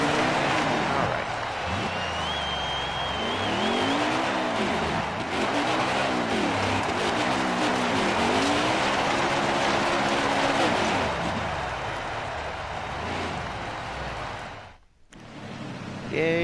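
A NASCAR Heat 4 race car doing burnouts, its engine droning and revving in long rising and falling sweeps under a roaring wash of tire noise, loud and continuous before a brief dropout near the end.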